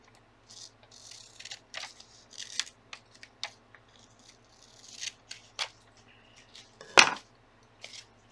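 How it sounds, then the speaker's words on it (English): Scissors snip through paper while a gluebook page is trimmed, with a string of short, close, crisp cuts in irregular rhythm and a louder rustling handling sound partway through. "I'll cut up this side."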